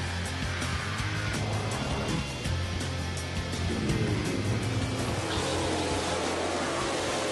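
Dirt modified race cars roar around the short one-third-mile Chateau Raceway dirt oval in Lansing, Minnesota, a dense continuous engine drone with rising and falling passes and no talk.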